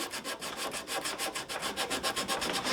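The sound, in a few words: sanding a wooden guitar neck with 80 grit sandpaper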